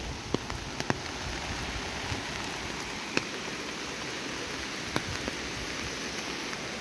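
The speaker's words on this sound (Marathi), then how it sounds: "पूर्ण पाऊस काय थांबायचं नाव नाही येणार" Steady monsoon rain falls beside a Konkan river at dusk, a dense even hiss with scattered sharper drips and taps, fairly soft and continuous with no voices.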